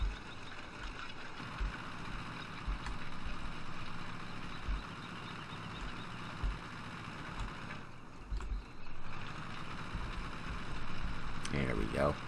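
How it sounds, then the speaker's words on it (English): Tractor engine in the Farming Simulator 15 video game on the Vielle France map, a steady low droning rumble held throughout, with someone talking over it. "it's hard to believe this thing's actually a tractor"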